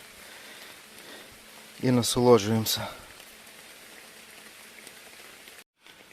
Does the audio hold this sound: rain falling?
yes